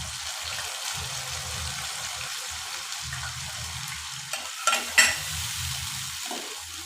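Ground onion, garlic and ginger paste sizzles in a pan over a lowered gas flame for a tarka, with rhythmic stirring scrapes and a few sharper clinks near the end.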